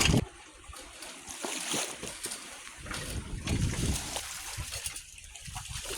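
A sailboat moves slowly at sea on the voyage toward Chatham Island, with gusting wind buffeting the microphone and water sloshing and washing against the hull in uneven surges.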